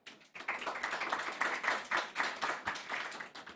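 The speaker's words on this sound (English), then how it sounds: "I think we need to give them a round of applause" A room full of people claps in a steady round of applause, sustained and fairly loud, starting after a short quiet moment.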